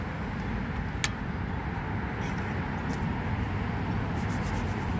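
Constant highway traffic roaring beside an EV fast-charging station, a dense steady rumble of passing cars at moderate distance, with faint clicks over it and no talking.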